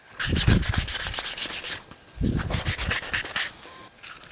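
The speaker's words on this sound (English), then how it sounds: "Do a little bit more shaping with the sandpaper" Rhythmic, close-up rasping strokes of sandpaper shaping a carved cedar fishing lure, two steady runs of quick back-and-forth scrubbing separated by a short pause.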